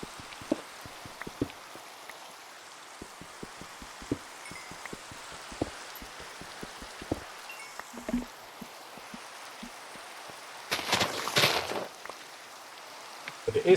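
Rain falls in a Minecraft hardcore world, a soft steady hiss dotted with scattered drip-like ticks, and a louder rustling burst near the end.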